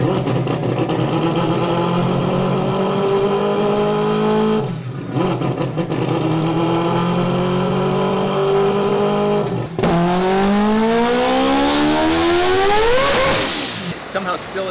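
A turbocharged four-rotor rotary engine on a dyno, roaring loud and near as it climbs through repeated revving pulls, briefly cutting out between runs before a final high-pitched surge; voices talk faintly beneath.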